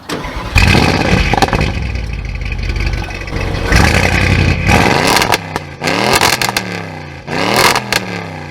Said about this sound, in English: crackle that you want to hear whenever you got a 600, 700 horsepower car